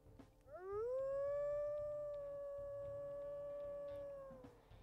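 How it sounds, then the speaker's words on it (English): A single long wolf howl from the video game WolfQuest, rising quickly into a clear, sustained tone that holds steady for several seconds before tapering off, heard alone over a quiet background. "Let's go ahead, we'll listen to his howls."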